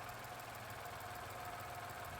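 Engine of a 2021 Mitsubishi Mirage idling while parked, a steady low hum with a slight knocking vibration, continuous and even throughout.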